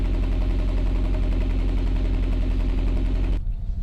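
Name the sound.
Honda Prelude engine exhaust idling steadily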